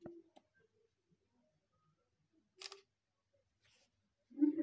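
A phone camera shutter taking a photo in an assistive description app, a few short, faint clicks spread across a quiet room with near-silent gaps between them.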